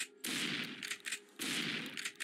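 Gunfire at zombies in the space-station game Evil Space Base, two sustained bursts of rapid shots each lasting about a second, with brief gaps between, fairly quiet and without speech.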